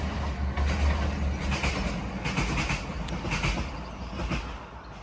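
A train rumbles past close by an allotment in Morecambe, its wheels clattering rhythmically over the rails in a loud, steady roar.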